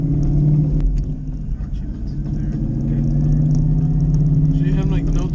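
An SVT car with a broken third gear in its transmission runs with a steady, low engine rumble and drivetrain drone, while people talk over it.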